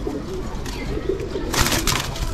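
A pigeon coos low and throaty amid a flock of pigeons being fed, over steady outdoor noise, with a brief rushing burst near the end.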